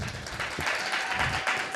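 An audience applauds a performer at a live music session, a steady wash of clapping at moderate level with some crowd noise.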